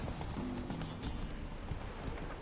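Steady clip-clop of horse hooves trotting close by in The Witcher 3: Wild Hunt, with a short whinny early on, no talking.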